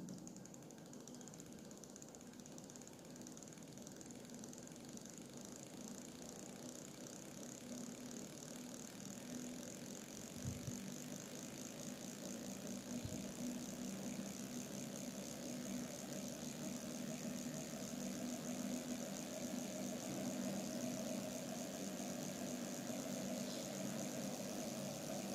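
A motor driven by a homemade BLDC motor controller runs with a steady electric whine and hum while its drive frequency is increased. It sounds close, continuous and alone for the whole stretch, with a couple of faint clicks midway.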